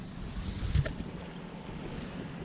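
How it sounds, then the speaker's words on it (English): A boat motors out of a harbour on Samos, a steady low engine drone under wind buffeting and water wash, with one brief louder knock partway through. "We're just motoring away from our harbour in Samos"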